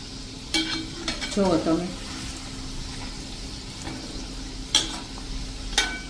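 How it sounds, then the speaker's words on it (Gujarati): Samosas frying in hot oil and being flipped over: a bubbling sizzle with a few sharp clinks and scrapes of the utensil, heard up close, plus a brief spoken remark near the start. "તો જુઓ મિત્રો આપણે આ રીતે સમોસાને ઉલટ પુલટ કરતા જવાના છે"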